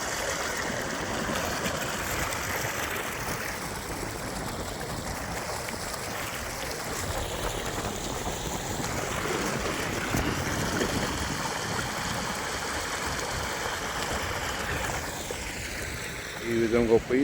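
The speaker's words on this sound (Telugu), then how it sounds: "ఇటువైపు నుండి వస్తున్నాయి ఈ నీళ్ళు." Water runs steadily through a drain channel into Pedda Cheruvu lake in Ramantapur, Hyderabad, making a constant close rushing, gurgling wash throughout.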